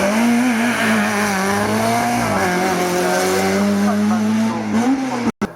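Race car climbing a hill course at the Graulhet hill climb, engine note rising and falling steadily as it passes close and loud, with a commentator speaking over it.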